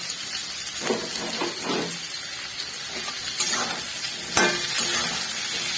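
Onion and capsicum chunks frying in a pan on high flame for chilli chicken, a steady sizzle with scraping stirs and a couple of sharper clatters, close and alone without voices.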